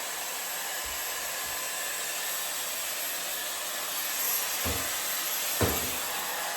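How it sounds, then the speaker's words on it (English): A Shark Glam hot air styler blows steadily while drying curly hair, a loud, even whoosh of air that runs throughout, with a few soft knocks from handling near the end. "now we're gonna blow dry and pull"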